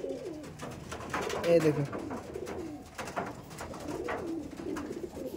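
Madrasi pigeons, a pair of green birds with black legs from a long-flying stock, give low, rolling coos close by while someone talks over them.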